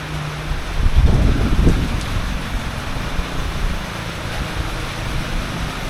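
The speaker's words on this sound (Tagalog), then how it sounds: "Taas ng ulan." Heavy, steady rain pours down outdoors, a dense continuous hiss with a louder gusty swell early on, then settling into an even wash.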